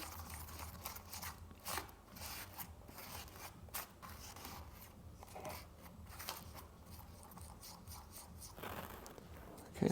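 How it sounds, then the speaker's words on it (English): Two-part adhesive is stirred with a little dry sand in a workshop while building a golf club shaft into its hosel, giving a continuous gritty scraping and crunching, close and moderately quiet. "Mixing the two parts together, a little bit of dry sand to act as alignment beads"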